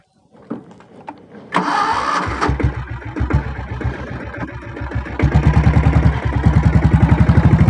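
A 7.5HP diesel Royal Enfield Bullet motorcycle engine is self-started: after a few starter cranks it catches and settles into a loud, close, steady thumping idle with a regular pulsing beat.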